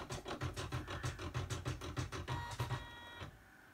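An embroidery machine stitching a stuffie runs in reverse, a quiet rapid mechanical pulsing of needle strokes that slows and stops near the end.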